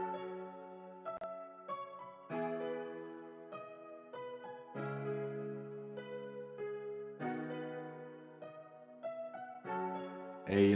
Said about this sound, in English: I've created a very dope melody with the grand piano from Keyscape